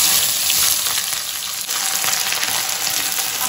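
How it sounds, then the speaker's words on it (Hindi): Onions frying in hot oil with whole spices for a spicy mutton fat curry, giving a steady, loud, close sizzle with faint crackle throughout and no talking. "अच्छे से फ्राई करूंगी ऑयल पे।"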